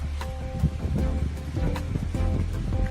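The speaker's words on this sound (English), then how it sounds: "So it's a waterfall in a cave." A waterfall pours inside the Ogufu water cave at Ogbunike in Anambra, giving a steady, close rushing wash of water with scattered soft knocks and bumps mixed in.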